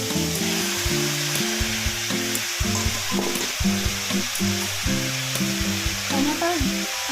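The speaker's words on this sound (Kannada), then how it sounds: "ಈಗ ಟೊಮೊಟೊನ ಹಾಕ್ತಾ ಇದ್ದೀನಿ" Tomatoes hit a hot frying pan for bitter gourd curry, bringing a continuous loud sizzle and frying hiss close up, with stirring scrapes and a steady tonal hum running underneath.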